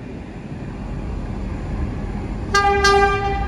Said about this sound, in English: This is the train we'll be boarding today.